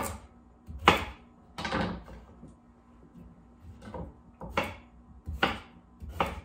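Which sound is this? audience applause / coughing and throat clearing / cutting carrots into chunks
cutting carrots into chunks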